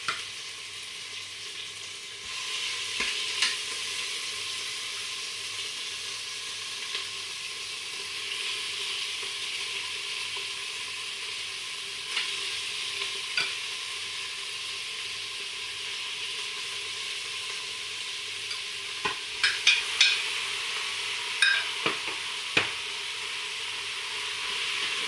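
Beef cubes brown in a Cookeo multicooker for carbonnade flamande, a steady even sizzle holding throughout, with a few sharp clicks and scrapes of stirring toward the end and no talk.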